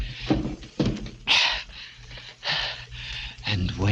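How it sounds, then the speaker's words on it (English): Furniture is shoved and stacked against a door as a radio-drama sound effect: a series of heavy wooden thunks and scraping bumps, close and fairly loud, arriving in irregular bursts over a few seconds. "So I piled furniture against the door"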